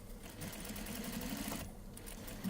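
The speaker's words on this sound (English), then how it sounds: "I will show you how to stitch the second angle without drawing anything." Faint, steady whir of a sewing machine stitching along a coat facing, running continuously for a couple of seconds at low volume with no talking.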